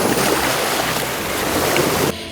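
A motor launch crosses the Bay of Amatique, its engine drone mixed with rushing water and wind noise, loud and close and continuous before cutting off abruptly near the end.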